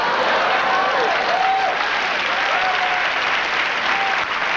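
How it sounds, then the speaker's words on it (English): A church audience claps for a woman, a dense and sustained round of applause from a large crowd that stays loud and even throughout, with faint voices mixed in. "Give her a hand clap"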